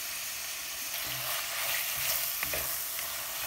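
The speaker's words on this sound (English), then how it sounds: "Continue to saute for at least 4 to 5 minutes until onions are wilted." Onions sautéing in a pan with curry leaves and spices to follow, giving a steady broadband sizzle throughout with a few soft stirring scrapes and clinks, close and continuous with no talk.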